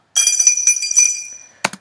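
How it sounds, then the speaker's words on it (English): Foley of coins and keys rattling inside a glass with slight added reverb: a run of bright jangling clinks and chimes that rings out and decays, then two sharp close clinks at the end. "sound of coins rattling about in the glass as well as the keys, and this sounded something like this, with also another slight added reverb"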